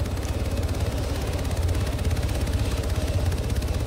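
A helicopter in a video game drones with a steady, loud rotor chop and a low engine rumble, constant and close.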